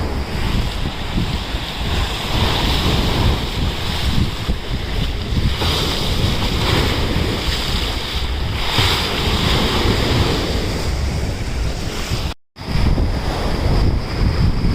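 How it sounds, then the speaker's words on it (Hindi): Strong waves surge constantly while gusts of wind buffet the microphone on a beach in Burundi used for kite surfing. The roar is loud and unbroken, and no voices are heard. "तो आज पानी की लहरें बहुत तेज़ उठ रही हैं, ये देख सकते हैं आप।"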